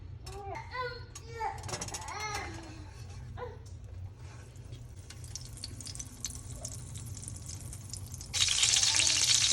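Butter and oil warming together in a pan for paneer butter masala, a soft crackle building to a brighter, steady sizzle near the end, with a voice speaking early on.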